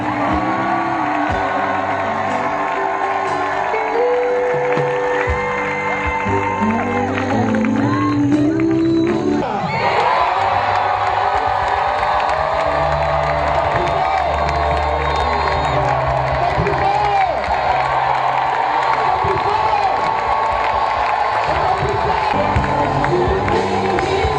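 A large crowd at an open-air evangelistic crusade cheers and shouts for joy, a loud continuous roar of voices and whoops that swells after a short shift and carries on throughout.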